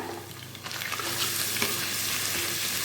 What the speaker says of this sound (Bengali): এখন এইখানে একটু আদা রসুন কুচি দিয়ে দিয়েছি তেলেতে